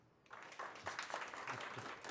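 An audience at a live radio broadcast breaks into applause, a faint, brief burst of clapping that rises and continues steadily for a couple of seconds.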